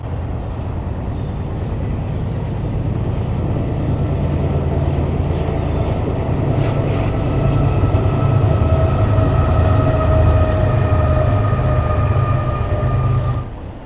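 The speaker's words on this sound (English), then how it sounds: "After watching the intermodal train" A BNSF intermodal freight train led by locomotives and fitted with mid-train distributed power units rumbles past close by, a loud, steady low roar of engines and rolling wagons that swells slightly before easing off at the end.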